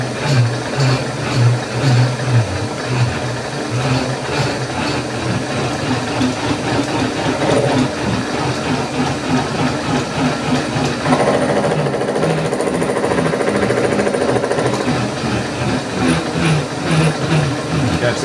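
A powered lathe slotter machines a cut across a metal face in a home workshop. It gives a loud, continuous mechanical clatter with a rhythmic chugging pulse and a steadier grinding stretch partway through.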